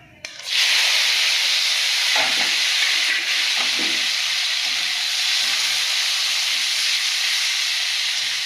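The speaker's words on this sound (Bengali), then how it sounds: "তো বন্ধুরা, আমি একটু আলুটা ভেজে নেবো।" Potatoes frying in hot oil, a loud, close, continuous sizzle that bursts in after a brief quiet start and hisses steadily for about eight seconds, with no voices.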